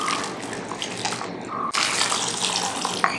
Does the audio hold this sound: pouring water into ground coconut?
yes